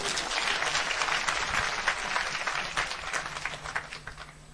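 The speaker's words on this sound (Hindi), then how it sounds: "जोरदार तालियां आप लोगों के लिए" A crowd claps loudly for a motivational talk, a sustained, thick round of applause with individual claps poking through, swelling and then gradually thinning toward the end.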